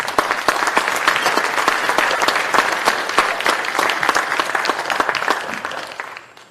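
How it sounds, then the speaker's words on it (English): Dense, steady applause from an audience at a community town hall on opioid misuse in Union County, clapping for the panelists. It stays loud for about six seconds, then thins out and fades near the end. "Can we have one more round of applause for our panelists?"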